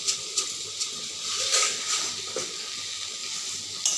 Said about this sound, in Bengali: চিনিটাকে দিয়েও কিছু সময় নাড়িয়ে নেব।